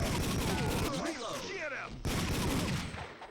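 Arcade-style gunfire from the PlayStation shooter Time Crisis, with rapid volleys of shots and bursts filling the whole stretch, loud and dense alongside game effects and a voice speaking underneath.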